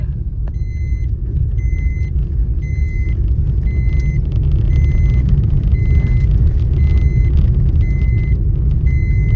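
Steady, loud car engine rumble from inside a vehicle riding in a wedding procession, continuous throughout with faint repeating beeps above it and no talk.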